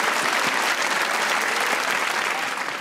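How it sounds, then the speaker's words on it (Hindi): An audience bursts into loud, dense applause for a guest, a continuous wash of clapping that holds steady throughout without any speech over it. "अख्तर भट्ट साहब के लिए ताली बजाएं"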